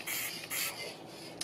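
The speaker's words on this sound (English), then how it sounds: "let's spray a little bit on top" Krylon gloss spray sealer hisses onto stamped cards in two short bursts, close and fairly loud, with a brief pause between them and no talking.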